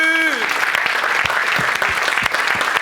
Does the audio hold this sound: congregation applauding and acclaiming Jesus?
yes